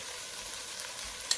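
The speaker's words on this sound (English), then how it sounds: "We're going to let it sear on medium high." Lamb shanks sear on medium high heat in a pan, giving a steady, faint broadband sizzle with a small pop near the end.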